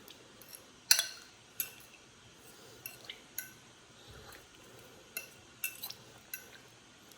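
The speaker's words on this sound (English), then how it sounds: "we're gonna take a fork and just kind of like mix them around" A fork tossing potato slices through melted butter in a pan or bowl, giving a run of sharp metallic clinks and scrapes at irregular intervals, close and fairly quiet, with soft wet shuffling between strikes.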